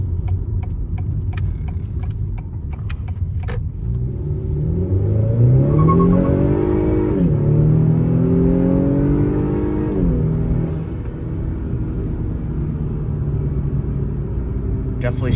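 2021 Acura TLX A-Spec with the turbocharged 2.0-litre K20C6, heard from inside as the engine rumbles, revs up through rising pitch, briefly drops at a shift and climbs again, with someone talking over it.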